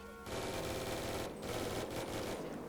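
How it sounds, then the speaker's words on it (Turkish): Rapid burst of Uzi submachine gun fire from a realistic FiveM GTA V sound pack, a fast rattling string of shots with a brief gap before a second burst, fairly quiet. "Uzi şu şekil."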